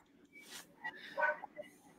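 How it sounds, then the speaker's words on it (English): A dog at a home gives a few faint, short yips and whimpery barks at a distance, spaced irregularly over quiet indoor background. "and so the dog's barking."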